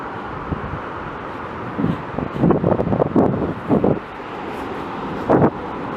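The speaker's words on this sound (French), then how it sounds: "Bon, manque de chance, on a à nouveau le vent." Strong wind on a beach buffets the microphone in loud, uneven gusts and rumbles, with a steady blustery roar underneath.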